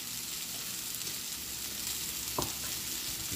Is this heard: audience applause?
no